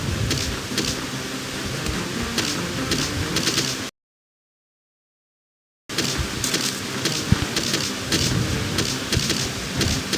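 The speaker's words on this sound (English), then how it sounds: "Yes, that sound is the waterfall." A waterfall in a video game gives a steady, dense rushing roar, loud and continuous, cut by a two-second silent gap before resuming unchanged.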